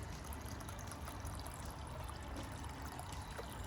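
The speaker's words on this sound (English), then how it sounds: "Water's running perfect out of the bamboo." Water running from a bamboo spout into a homemade Japanese-style garden water feature, a steady, even trickle and splash heard alone at low level.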